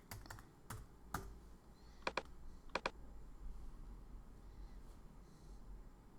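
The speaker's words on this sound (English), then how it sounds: "Let's type in rucksack." Typing on a computer keyboard, with scattered distinct key clicks in small bursts and pauses against a quiet room hum.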